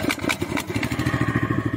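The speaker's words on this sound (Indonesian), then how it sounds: "Habis itu kita nyalain mesinnya ya." A small engine on a crop sprayer machine, used for spraying long bean, lime and chili plants, starts up and settles into a fast, throbbing putter, loud and close, with no voices.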